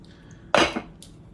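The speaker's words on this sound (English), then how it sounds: "I'm going to use the tongs again to remove this dome." Metal tongs lifting the dome off a Shaq egg maker make a single sharp metallic clank followed by a brief rattle, then a faint light clink, close and otherwise quiet.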